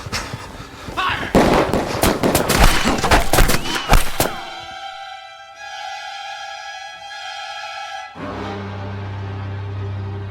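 A firing squad opens fire in a radio drama. A dense burst of rapid gunshots rings out at close range, then fades into ringing tones and a low rumble.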